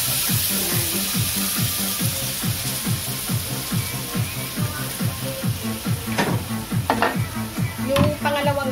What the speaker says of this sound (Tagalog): Tapos, lalagay natin yung unang gata.